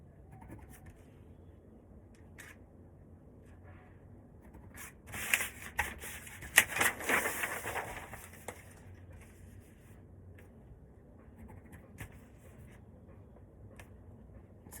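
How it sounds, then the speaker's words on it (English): A pencil drawing across sleeve pattern paper, a faint scratchy rubbing in the middle of an otherwise quiet stretch, with a few short strokes before and after. "I'm going to use my pencil to bring this round to the 1/2 inch"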